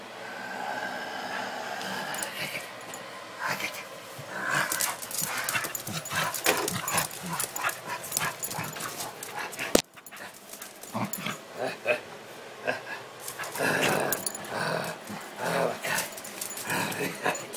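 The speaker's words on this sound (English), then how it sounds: "The dog's eating me. The dog is eating me." A dog pants and growls up close during a 2011 blizzard, snorting and snarling in irregular bursts while a person talks and shouts over it.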